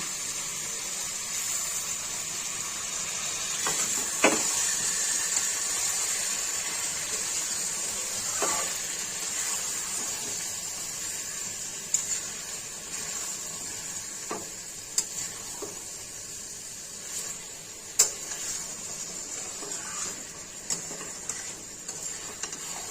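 Garlic paste fries in a pan for a chicken dish, giving a thin continuous hiss with occasional light clicks and taps of a utensil, fairly quiet and unbroken by voices.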